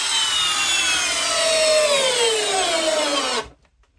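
Dnipro-M CD-201HBC cordless screwdriver driving a screw straight into wood with no pilot hole: a loud, close motor whir whose pitch sags under load for over three seconds before cutting off abruptly.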